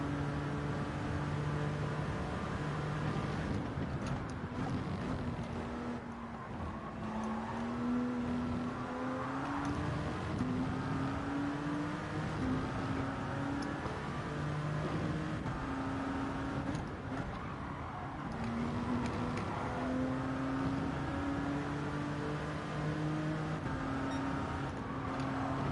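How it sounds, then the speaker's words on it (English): Gr.1 endurance race cars such as a Toyota and a Peugeot 908 at Le Mans in Gran Turismo 7 drone steadily, engine notes rising and falling through gear changes, continuous and moderately loud with no talk. "So we've got the homie, the Toyota Gr.1 versus Ian in the Peugeot 908"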